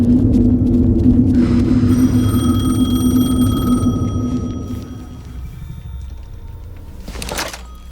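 A telephone rings in the Alan Wake 2 video game, a sustained electronic tone that holds for several seconds over a low rumbling ambience, then fades, followed by a brief louder burst near the end.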